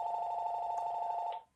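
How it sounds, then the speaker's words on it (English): A telephone rings with one steady, continuous electronic-bell tone at moderate volume, held for over a second before cutting off abruptly. "The phone hasn't rung for hours, and then the minute I'm doing this, there it is."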